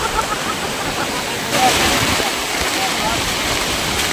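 A monsoon waterfall at Chandranagar village in Dapoli, Konkan, pours out a broad, continuous roar of rushing water, loud and close, with faint voices mixed in.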